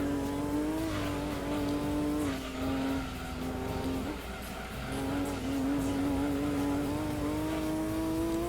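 A Nissan Silvia racing in the video game Gran Turismo 2: a steady, high engine drone that shifts pitch under acceleration, with a brief dip and tire noise midway before the engine climbs again.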